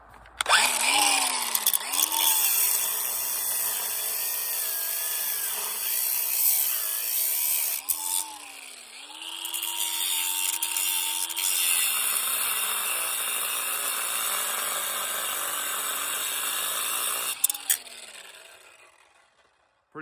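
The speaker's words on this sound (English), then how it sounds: "Pretty simple cutting out with them grinders." Angle grinders cut steel on a Powder River squeeze chute under repair, a loud continuous whine that rises and falls in pitch as the discs bite, with brief pauses and steady harsh grinding for most of the stretch.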